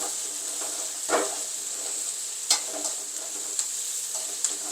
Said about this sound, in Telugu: ఎర్రగడ్డలు అయితే వేగినాయి ఎర్రగా